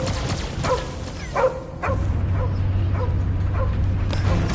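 Dog barks and yips in Guardians of the Galaxy on PS5, several short sharp calls in the first two seconds over a steady game rumble and background hum.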